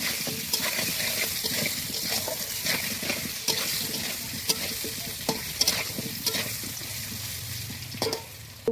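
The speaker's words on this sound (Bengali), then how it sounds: "আলুতে অল্প পরিমাণে নুন হলুদ গুঁড়ো দিয়ে ভেজে নেবো লাল লাল করে।" Potato pieces frying in hot oil with a little salt and turmeric, sizzling steadily throughout with occasional sharp clinks and scrapes of stirring against the pan, close and alone without talk.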